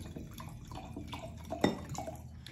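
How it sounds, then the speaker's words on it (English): Wine poured from a bottle into a glass in a kitchen, a short, soft liquid trickle with a faint splash near the middle, heard close and alone without talk. "So I'm gonna go ahead and pour myself a glass of wine"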